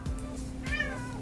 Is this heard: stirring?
no